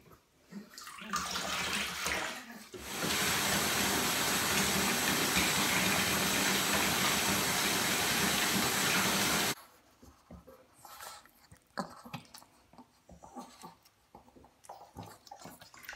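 A tap runs steadily into a tub for about seven seconds while a Chihuahua gets a bath, loud and close. Quieter splashing and handling sounds come before and after it.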